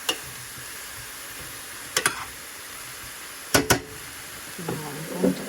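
Partially cooked food sizzles softly in a pan during a big turkey dinner prep, with a faint steady hiss broken by a few sharp clinks and stirring scrapes, and a little murmured talk near the end.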